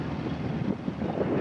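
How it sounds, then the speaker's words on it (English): Strong wind on a lake in cold, snowy fall weather buffets the microphone with a continuous low roar and rumble, with no voices. "So it's pretty windy out here."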